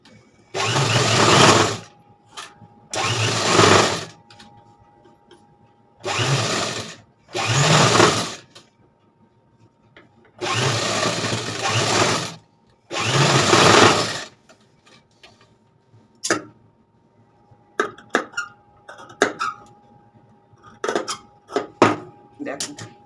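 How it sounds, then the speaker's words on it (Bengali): A sewing machine runs in several bursts, stitching a blouse seam, each run lasting one to two seconds with short pauses, followed by lighter clicks and handling of fabric near the end. "তাহলে চলো এবার আমাকে একটা চাপ সেলাই দিতে হবে"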